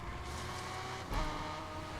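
A Mitsubishi Evo X built up in the racing game Need for Speed Unbound holds a steady engine roar, with a brief surge of power just past the midpoint.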